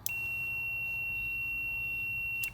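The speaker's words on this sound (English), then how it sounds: "when I energize the relay, you should hear the multimeter beep" A multimeter on continuity emits one steady high-pitched beep lasting over two seconds as a 12V relay is energized, completing the circuit from terminal 87 to 30, over a low electrical hum.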